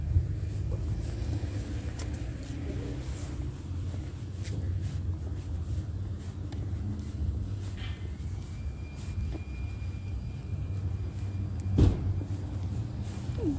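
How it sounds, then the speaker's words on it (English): A car door slams once near the end as a single sharp thump, set against steady low traffic rumble and distant vehicle noise outdoors. "Closing of another car door."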